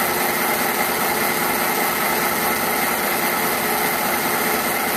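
An electric motor running at full speed, about 250 RPM, on an eddy current dynamometer built for Formula SAE testing gives a loud, steady broadband whir with no change in pitch or level throughout.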